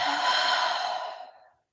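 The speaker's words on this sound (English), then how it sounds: "Big breath out through your mouth" A deep breath let out through the mouth during a calm yoga session, one long airy exhale that swells and then fades to silence.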